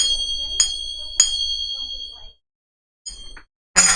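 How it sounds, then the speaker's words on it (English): Small kartal hand cymbals, worn on the fingers, ring out in several bright metallic chimes, struck alone in an irregular rhythm with long shimmering decays and pauses between strikes. "these are called cartels, and you put your finger through and they make a beautiful chime sound."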